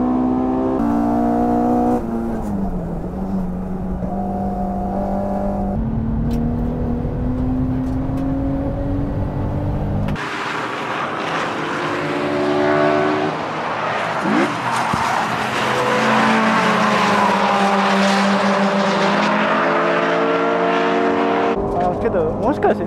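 AE86, Skyline and S2000 cars drifting in a race: engines rev and whine loudly with long tire squeals, then a harsher, louder stretch of screeching and roaring, with commentators talking over it.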